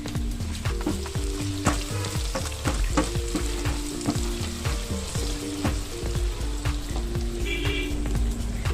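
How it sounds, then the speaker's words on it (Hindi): Mutton for Kashmiri rogan josh sizzles steadily in a hot pan, with repeated close scraping and stirring strokes over the constant frying hiss. "अब मीट डालूंगी। इसके साथ मिक्स करूंगी।"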